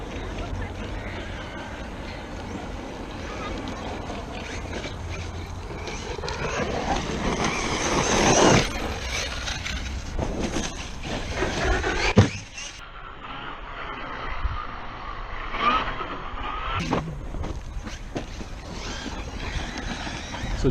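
A Traxxas Maxx RC truck fitted with a Sledge 4985 1650kv motor running on a 6S battery, a loud whining electric drive that rises to a peak, cuts sharply, then surges again, with voices talking over it.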